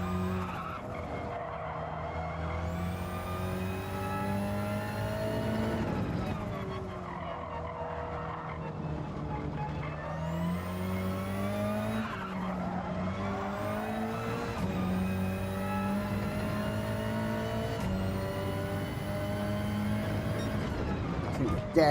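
A Hyundai Elantra BTCC race car in Gran Turismo 7 revs and shifts through the gears in repeated rising engine sweeps, with tyres squealing under hard cornering and a voice talking over the racing.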